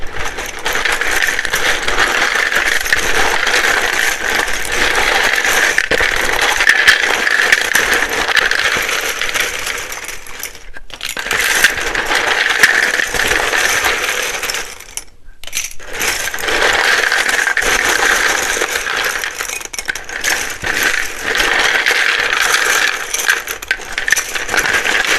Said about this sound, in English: you may want to turn down the volume. It can be very loud when I shuffle these.